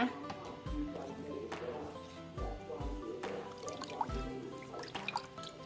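Soft, sporadic drips and small liquid splashes as water, coconut milk, salt and sugar are stirred or squeezed together by hand to dissolve for a Thai dessert batter, quiet and close.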